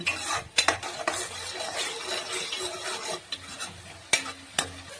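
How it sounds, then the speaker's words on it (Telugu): Onion paste frying in a pan for a village-style boti curry: a continuous sizzle runs underneath while a spoon scrapes and clanks against the pan in irregular, sharp strokes, close and fairly loud. "ఉల్లిపాయ పచ్చి వాసన పోయేంత వరకు వేసుకుందామండి."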